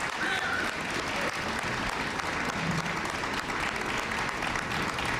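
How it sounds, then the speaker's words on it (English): Audience applause at a White House event, steady dense clapping from a large crowd filling the room continuously throughout, loud and sustained without pause. "Please give him a big round of applause."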